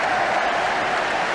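Stadium crowd at Arsenal v Ipswich Town applauding as half-time arrives, a loud, continuous wash of clapping from thousands of spectators, sustained without a break.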